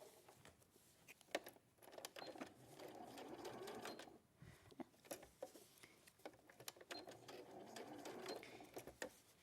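A sewing machine stitches a shoulder seam with a steady rapid mechanical patter in several runs broken by brief stops, close but soft.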